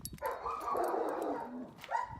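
Shepherd dogs bark and yelp close by, a couple of higher pitched barks and whines in quick succession.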